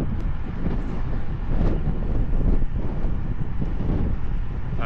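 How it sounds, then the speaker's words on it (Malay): Steady, roaring headwind buffets the microphone while cycling along a quiet road at night, a continuous loud rush with no talking. "Lawan angin susah sikit lah."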